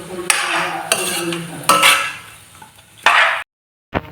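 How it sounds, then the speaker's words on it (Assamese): Mutton curry being stirred in a metal pot with turmeric, giving close scraping and clinking strokes at irregular intervals with faint sizzling beneath, ending in a brief silence before one last scrape. "এনেকৈ লৰাই থাকিব লাগিব অলপ টাইম।"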